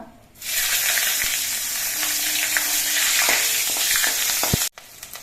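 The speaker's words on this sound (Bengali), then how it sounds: "কালো জিরে আর কাঁচা লঙ্কাটা ভাজা হয়ে যাওয়ার পর" Black cumin and slit green chillies fry in hot oil, producing a sudden loud sizzle with scattered crackles and stirring taps. It holds steady before cutting off near the end.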